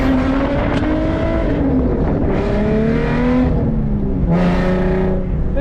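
A drift car with most of its mufflers gone roars at a drifting event, its loud raw engine note rising and falling steadily as it revs, close and unbroken, with no talk over it.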